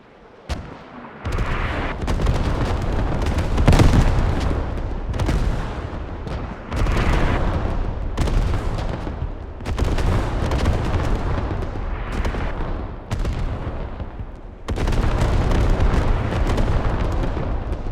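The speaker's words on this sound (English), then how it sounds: "Defensive artillery mopping up the entire eastern push by EXD and SPH." Artillery barrage in the video game Squad, with repeated heavy booms and rolling blasts layered into a dense, loud, near-continuous bombardment, lulling briefly between volleys.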